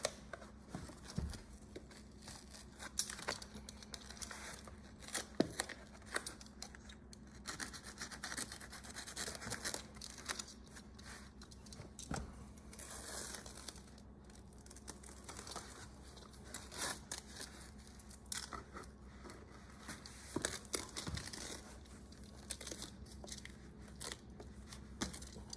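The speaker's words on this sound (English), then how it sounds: "let's lay down the double-sided carpet tape. We'll put two layers, top and bottom." Double-sided carpet tape is pulled, laid and torn along carpeted stair treads, making soft crinkling, peeling and ripping sounds in scattered bursts at low volume.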